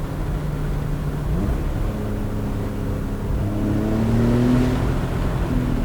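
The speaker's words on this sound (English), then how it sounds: "let's try sport exhaust now" A 2019 Porsche 911 Targa 4 GTS engine with its sport exhaust open idles and blips, a deep steady drone whose pitch rises in smooth revs toward the end, loud and close with no talk.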